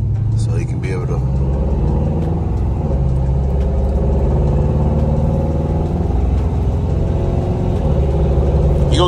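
Project car engine rumbling as it is driven one last time before being sold, a steady loud low drone with a slight rev, close and continuous under someone talking.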